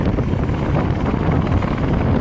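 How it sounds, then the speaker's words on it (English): Loud, steady helicopter rotor thrumming close overhead, a dense continuous whir with no pauses. "This helicopter's so loud right now."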